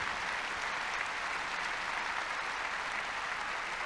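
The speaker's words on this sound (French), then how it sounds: "Est-ce qu'on peut applaudir Sébastien juste pour cette démonstration?" Steady, dense applause from a seated audience at a business talk, continuous and even in loudness throughout, with no voices standing out.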